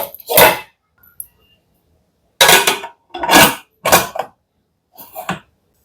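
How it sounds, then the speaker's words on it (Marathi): A bowl of field beans is set down inside a pressure cooker with water in it, giving a few short, close clinks and knocks of metal and crockery separated by brief pauses. "आणि आता हा वाडगा मी डाळिंब्यांचा ह्याच्यामध्ये ठेवते"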